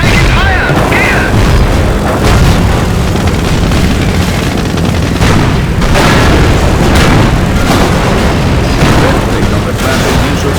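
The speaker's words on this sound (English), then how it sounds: "With this ability, Henschel aircraft will fly by the target location, targeting all enemies within their flight path" A Henschel aircraft strafing run in the Company of Heroes video game brings a dense, loud barrage of booms and bursts that continues without a break, with voices speaking over the battle.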